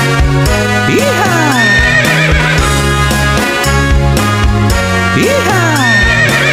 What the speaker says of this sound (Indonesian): Suara kuda delman keliling kota